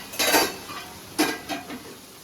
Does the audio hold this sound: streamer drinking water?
no